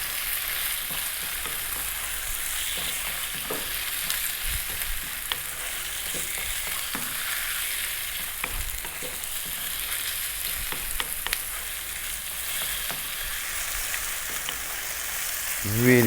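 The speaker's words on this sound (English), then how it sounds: "And we're going to stir fry this around in the pan" Chicken seasoned with garlic, salt and black pepper stir-fries in a pan for garlic chicken pasta, a continuous even sizzle broken by occasional scraping stirs and clatters.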